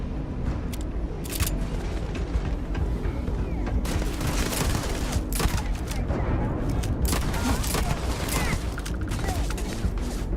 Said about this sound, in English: Why does the pistol sound like that?